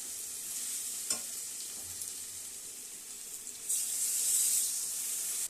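Garlic, black cumin and green chilli paste fries in a pan of chorchori, a steady soft sizzle with occasional stirring clicks, growing louder and hissier near the end, with no talking.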